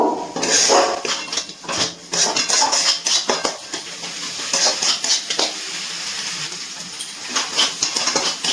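Cooked chicken for chops being stirred in a pan over medium flame to dry off its water, with loud repeated scraping and clanking of a metal spatula over a faint sizzle.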